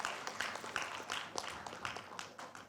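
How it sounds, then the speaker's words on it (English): Applause from a conference audience welcoming a speaker onto the stage, a faint, thin patter of scattered clapping from a modest crowd with irregular claps throughout. "Please give a round of applause."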